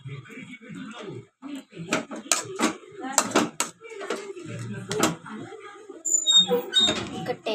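A spoon stirs and scrapes food around a pot, with irregular clinks and scrapes of metal on metal under steady talking.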